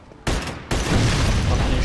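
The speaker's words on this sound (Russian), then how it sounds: "Сейчас будет эпичный взрыв." A car fuel tank explodes in Mafia 2, with a sudden loud burst followed by a second, heavier blast that rolls into sustained roaring, crackling debris and fire.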